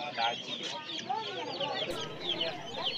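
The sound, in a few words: desi chickens clucking at a hen market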